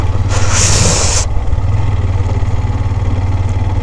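A Hero Xtreme 125R motorcycle rides off-road on a wet mountain track, its engine a steady close low drone with a brief hissing burst near the start.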